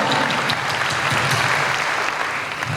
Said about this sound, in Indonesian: Boleh kita berikan tepuk tangan bagi Tuhan.